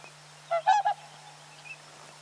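A pair of swans in the tundra gives a short honking call, three quick nasal notes close together, followed by a fainter note, over a quiet steady hum.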